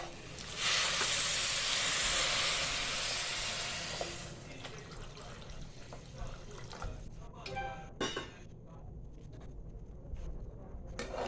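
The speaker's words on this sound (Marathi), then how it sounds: "आता मी ह्या भाताला गरम पाणी ओतणार आहे" Hot water poured into sautéed spiced rice in a hot pan bursts into a loud rushing hiss for several seconds, then settles into quieter bubbling, crackles and a few utensil taps.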